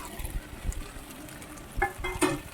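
Cucumber (dosakaya) and potato pieces go into a simmering tomato curry and get stirred, a short scatter of soft thuds and spoon scrapes over a low sizzle, with a brief clink near the end.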